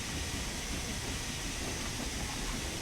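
Steam locomotive running in the railway simulator Train Sim World 3, a steady broad hiss and low rumble with no clear beats or pauses, unchanging throughout.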